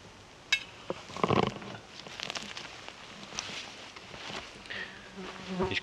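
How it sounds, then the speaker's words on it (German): Flies buzz around a tent on a trek by the Thüringer Fjord, with sharp close droning passes that swell and fade several times against a calm, quiet lakeside background. "weil hier gibt es sehr viele Insekten."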